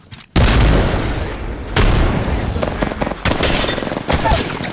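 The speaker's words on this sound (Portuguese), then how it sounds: "estão atirando ali de baixo" Gunfire in the video game Apex Legends: loud booming shots and rapid bursts crack close by, with a voice talking over the fighting.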